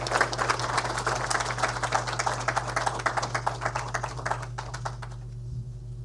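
An audience at an indoor speech event applauding, a dense patter of many hands clapping under a steady low hum, thinning out toward the end.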